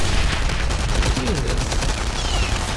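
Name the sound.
gunfire in the video game Enemy Front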